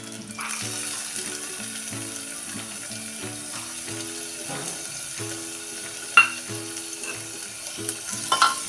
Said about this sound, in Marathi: आता थोडा वेळ आपण ह्या कांद्याबरोबर चांगलं परतून घेऊया